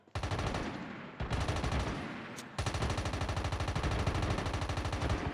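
Rapid automatic gunfire from the mobile shooter game Call of Duty Mobile blasts loud and continuous in long sustained bursts, with a brief break between volleys and no talking over it.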